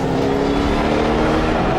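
A supercharged Ford Shelby GT500 engine pulls hard under acceleration, a loud, steady roar heard from inside the car with no talking over it.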